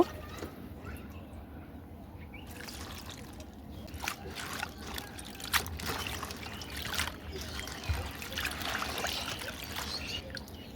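Spinach leaves are rinsed in water by hand, with soft sloshing, trickling and splashing throughout and brief louder splashes toward the end, at close range.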